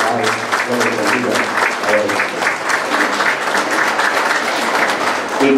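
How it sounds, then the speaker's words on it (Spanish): A congregation at a Day of the Absent church service breaks into a strong, sustained round of clapping that holds steady and loud from start to finish, with no voices rising above it. "damos un fuerte aplauso a todos los hijos de los presentes"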